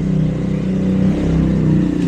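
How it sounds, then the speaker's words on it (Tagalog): Motorcycle engine revving nearby, a loud, steady buzzing drone with slight rises in pitch and a faint clattery edge, no talking. "Motor nila to."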